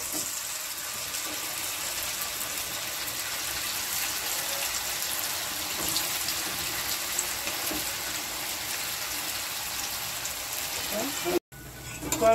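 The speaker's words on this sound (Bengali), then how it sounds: "এবার আমি ব্যাচ অনুযায়ী ভেজে নেব।" Carrot pieces frying in batches in hot oil in a kadai give off a steady, even sizzle that runs on without a break, then cuts out sharply near the end before coming back.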